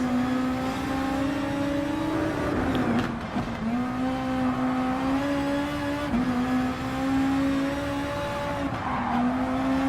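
A BMW M6 GT3 race car in Gran Turismo Sport drives the Nürburgring. Its loud, steady engine drone rises through the gears, with brief dips at each shift and a tire squeal, close and continuous throughout.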